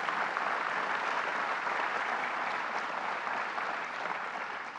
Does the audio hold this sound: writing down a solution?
no